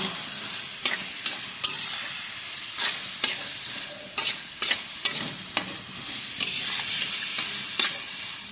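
Bitter gourd sizzles in hot oil in a pan while a spoon stirs it, giving a steady frying hiss broken by sharp, irregular scraping clacks, close up with no talk.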